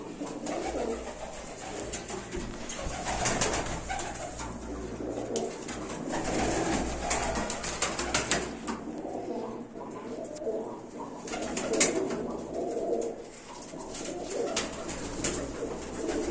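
Pigeons coo steadily throughout in a loft, soft repeated throaty calls layered over a constant low hum, with occasional rustling and wing flutters nearby.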